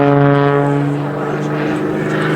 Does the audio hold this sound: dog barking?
no